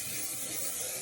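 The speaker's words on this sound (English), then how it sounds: "I have this Aussie Headstrong Volume hairspray right now." Aussie Headstrong Volume aerosol hairspray sprays in one continuous, close, bright hiss that runs about a second and then cuts off.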